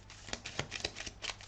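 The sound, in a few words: shuffling tarot cards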